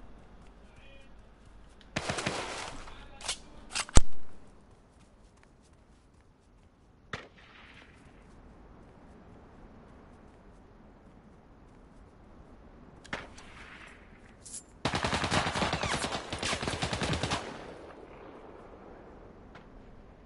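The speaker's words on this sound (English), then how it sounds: "I can't see this guy shooting." Gunshots from another player in an online shooter match, a few sharp bursts spread apart, some loud and close, others thin and distant, with quiet gaps between them.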